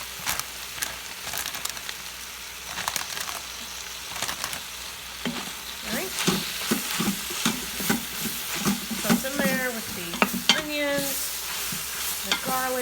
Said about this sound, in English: we are going to dump every bit of the spinach in here, and we're going to cook it until it is slightly wilted